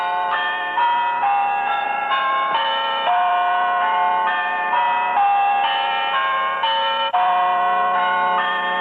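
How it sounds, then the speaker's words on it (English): Bell chimes played by hand in a tower in Lunenburg, a steady, continuous run of ringing tuned notes in a melodic sequence, loud and close, with no talk over it. "I wanted to see how the chimes are played."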